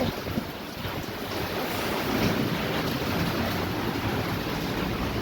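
Wind and rain from a storm outside form a dense, continuous roar. It holds a fairly even loudness throughout, with no speech over it.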